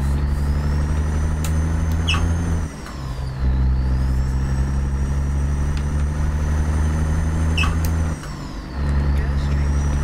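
A stretched Peterbilt 379 with a Cat 3406E engine in American Truck Simulator rumbles steadily at a loud low drone, dipping briefly twice as if shifting, with occasional clicks over the top.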